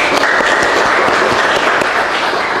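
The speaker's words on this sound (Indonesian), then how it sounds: "Tepuk tangan buat Brilian" A room applauds a student named Brilian at a youth forum, steady dense clapping from a group, close and loud, sustained without break.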